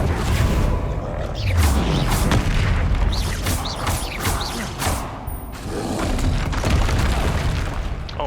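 Fiery spell blasts, booms and crackling magic effects burst repeatedly during Hogwarts Legacy combat, loud and dense with rumbling low impacts and sharp whooshes layered over constant game action.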